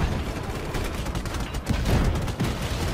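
Gunfire in the video game Just Cause 3, a dense stream of rapid shots and bursts running continuously at moderate loudness with a few heavier blasts near the end, without clear talk.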